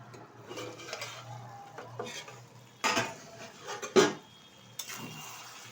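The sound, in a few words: lifting the lid off a cooking pot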